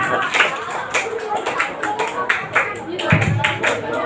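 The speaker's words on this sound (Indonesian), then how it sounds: "Tepuk tangan dong buat Isafan." Schoolchildren at an elementary school Ramadan program clapping for a classmate, a quick patter of many small hands applauding, close and fairly loud, with voices chattering in the room.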